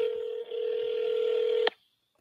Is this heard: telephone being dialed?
yes